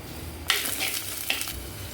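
Fenugreek seeds drop into hot coconut oil in a kitchen pan, producing two quick sharp sizzling bursts that spit and crackle close up before settling into a quieter fry.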